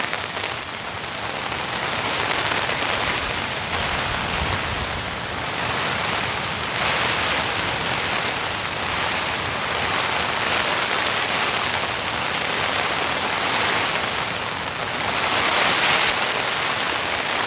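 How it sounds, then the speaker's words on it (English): Heavy torrential rain pours down on a campsite during a rainstorm, a dense steady hiss of drops drumming on surfaces, swelling slightly in waves and continuing unbroken with no one speaking. "just gonna enjoy the rain"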